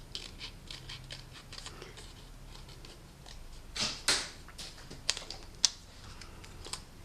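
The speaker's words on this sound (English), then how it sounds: "I'm going to cut out this smaller one next" Scissors snip around a paper stamped image in several short, quiet cuts, with a few sharper close clicks of the blades against a faint background hiss.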